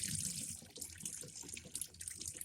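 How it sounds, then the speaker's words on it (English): Water drains from a bathroom sink after the clog is cleared and the pipe fitting is tightened, giving a steady, close, hissing gurgle throughout with no talking. "I'm going to let it drain out real quick"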